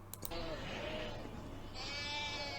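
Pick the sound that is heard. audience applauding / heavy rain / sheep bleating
sheep bleating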